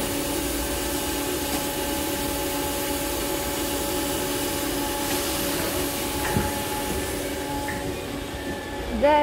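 A train hauled by a class 66 diesel locomotive rumbles into a station, its steady drone giving way to squealing brakes near the end.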